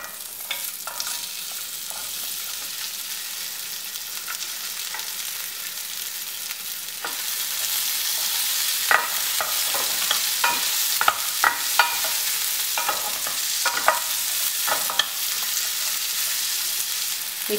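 Onion and tomato sizzle in a pan, a continuous bright frying hiss broken by intermittent scraping stirs that grow more frequent in the second half, close and alone without talk.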